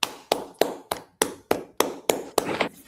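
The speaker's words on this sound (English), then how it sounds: "Y'all clap it up." A small group claps in a steady, evenly spaced rhythm, eight sharp claps roughly a third of a second apart, close and fairly loud with no talking over them.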